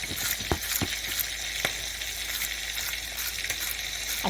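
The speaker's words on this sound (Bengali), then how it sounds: "এই যে মাছগুলো আমি ভেজে নিলাম, বেশ একটু কড়া কড়া করেই ভাজলাম।" Damodar river fish crackle and sizzle in hot oil, frying to a crisp with a dense, steady spatter and occasional sharper pops, close and continuous.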